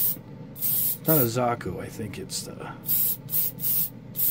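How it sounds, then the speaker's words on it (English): Short hissing bursts from a can of metallic red spray paint coat a Gunpla model kit, in steady pulses with pauses between them, and someone talks over part of the spraying. "It's a great spraying paint"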